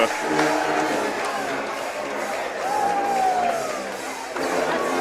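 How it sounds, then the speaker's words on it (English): Basketball crowd in Pruitt Hall at a men's college game, a loud sustained roar and cheering with whoops right after a big play, steady throughout with voices mixed in. "the crowd is electric here in Pruitt Hall"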